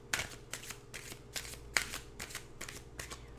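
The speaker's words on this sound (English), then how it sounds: "We are now giving the cards a shuffle" A deck of cards being shuffled indoors in a quiet room, with about eight quick riffling bursts in a steady rhythm, close and soft, with no talking.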